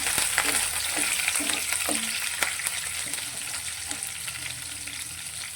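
Green chillies and curry leaves fry with mustard seeds in a little oil for a low-oil raw potato snack, giving a steady close hiss of sizzling with occasional stirring clicks and pops.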